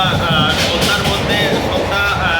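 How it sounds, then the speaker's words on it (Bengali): Kamakhya–Gaya Express running at speed, a loud continuous rumble and rattle of the carriage with squealing tones, voices talking over it. "এখন মানে ট্রেনটা ভালো স্পিডে চলতেছে"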